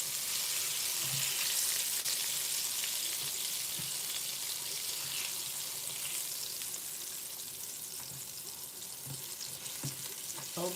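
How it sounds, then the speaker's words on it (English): Steady crackling sizzle of calamari rings frying in hot oil, continuous and close, with occasional soft clinks and stirring noises. "Okay, the frying is done."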